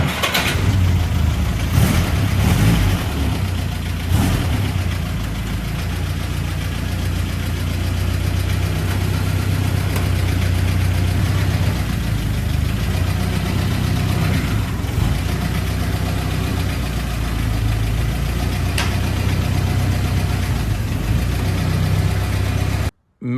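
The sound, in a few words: Willys Jeep engine running on a cold test drive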